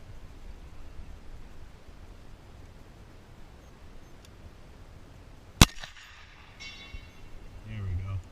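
A single sharp, loud gunshot from an 1863 Sharps carbine cracks out of a quiet outdoor hush, trailed by a short fading echo.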